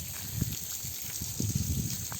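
Water gushes from a hose irrigating coconut trees on farmland, with an uneven, splashing flow that surges in short bursts, close by and moderately loud.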